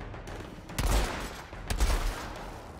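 Sniper rifle gunfire in the video game Outriders comes as two sharp, loud shots about a second apart, each with a short echoing tail, no talk over them.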